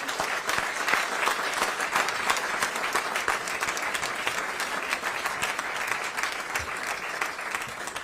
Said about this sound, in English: let's give Kimo and his family just a quick round of applause